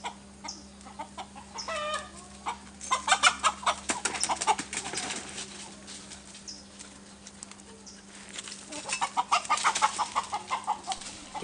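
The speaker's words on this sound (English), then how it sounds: "Beware, the chicken is fast." A chicken clucks in repeated bursts of short, agitated calls, close and fairly loud, over a low steady hum.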